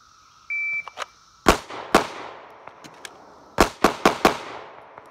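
Pistol shots fired in a fast draw drill on a 4-inch box target: one sharp shot, a second soon after, then a quick string of four close, loud reports, with a brief electronic timer beep at the start.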